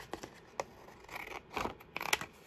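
Scissors cut through collage mount board in a few short, crisp snips and scraping strokes, quiet and close, with brief pauses between the cuts.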